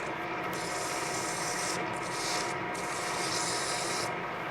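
Steady, close rasping rub of sandpaper against a wooden cylinder pattern spinning on a lathe, continuous and unbroken, with slight swells in intensity throughout.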